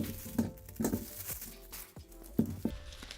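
Close, crisp snipping sounds come in quick pairs as scissors cut through plastic packaging on a Canon PowerShot G9X Mark II camera box, with light crinkling between the cuts.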